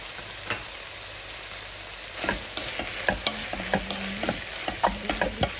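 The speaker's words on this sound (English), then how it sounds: "Mix everything together." Chicken soup seasoned with salt and white pepper being stirred in a pot, a run of close scraping and clinking utensil strokes that grow busier partway through, with a soft simmering hiss underneath and no talking.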